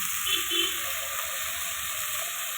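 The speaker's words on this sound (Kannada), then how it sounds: "ಇದಕ್ಕೆ ಸ್ವಲ್ಪ ನೀರು ಸೇರಿಸಿ ಹಾಕ್ಕೋಬೇಕು" Water poured into tomato bath masala in a cooking pan makes a steady close hiss and sizzle that lasts throughout, with a faint voice briefly underneath.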